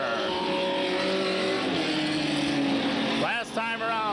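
Super stock race cars lapping a short oval track at a 1993 mid-season championship race, a steady loud engine roar from the passing field, with an announcer talking over it near the end.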